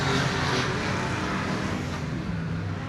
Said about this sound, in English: Beautiful sound these cars making, the mixtures of 6-cylinder engines, 4-cylinder engines